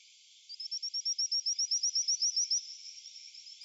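A played recording of frog calls: a rapid, regular series of about a dozen and a half high, sharp chirping pulses that fade into a softer trill, heard alone and fairly close.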